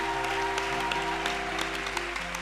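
Congregation applauding steadily during an evening church worship service, a dense, continuous clapping that fills the room with a sustained tone held underneath and no speech over it.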